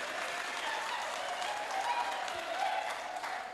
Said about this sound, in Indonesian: Ini tepuk tangan kasih yang urus ini sound system ini